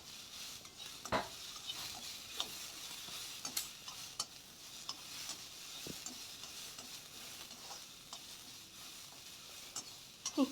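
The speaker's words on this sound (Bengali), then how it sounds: "একটু নেড়ে নেব, চালটা একটু ভাজা করব হালকা তেলের সাথে।" Rice is stirred as it fries lightly in a little oil for Bengali payesh, with a soft faint sizzle and scattered scrapes and taps of a spoon against the pan.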